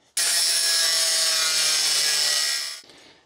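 A power tool cuts excess metal off a freshly welded upper control arm mount on a Mopar A-Body, a loud, steady, high-pitched grinding whine that holds continuously for about two and a half seconds, then stops abruptly.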